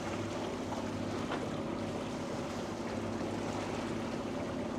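A Jeanneau 350 Sun Odyssey sailboat with a Yamaha engine motoring through waves on an autumn day: a steady engine drone under continuous wash of water and wind noise, constant and fairly loud throughout.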